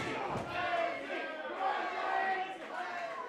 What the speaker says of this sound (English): This crowd coming out a little bit alive for Blizzy.